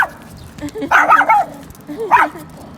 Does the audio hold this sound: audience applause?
no